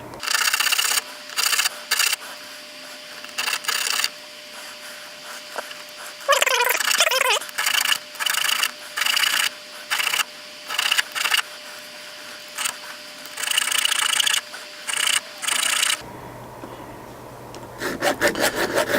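Lock key pins are cut at an angle with a small saw or file, close rasping strokes in short repeated bursts separated by pauses, with a faint steady hum underneath.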